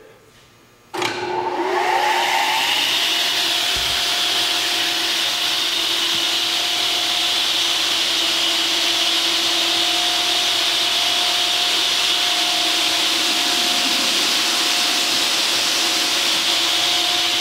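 A Pertici Univer 400 P double end miter saw with 15-inch blade capacity switches on with a sharp start and spins up into a steady, loud, high-pitched whine with constant tones, running alone without talk.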